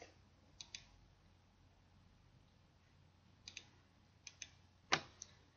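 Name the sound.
computer mouse clicking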